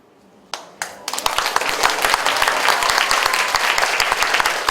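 Audience at a Korean reconstruction-association briefing breaks into applause, starting with a couple of isolated claps then swelling into sustained, dense clapping from a large crowd, steady and moderately loud throughout.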